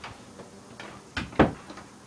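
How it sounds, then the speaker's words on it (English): Indoors, a door swings open by itself, giving a few soft knocks and then a louder thump and rattle near the end of the short stretch. No one talks. "Door opened by itself."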